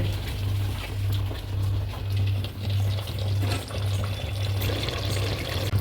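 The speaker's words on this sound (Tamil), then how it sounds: "குழம்புக்கு தேவையான அளவுக்கு நீங்கள் தண்ணி ஊற்றிக்கோங்க." Water pours steadily into a pot of mutton curry being made for a Sunday meal, a continuous close splashing fill over a low, pulsing hum from the stove or kitchen.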